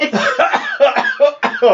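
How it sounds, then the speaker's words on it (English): A person coughs several times in quick succession, loud and close, in harsh bursts separated by short gasps. "See? There's the cough."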